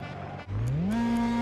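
A Skoda rally car engine in the WRC: Rally Evolved video game drops briefly, then revs up into a rising, sustained drone that levels off and holds steady.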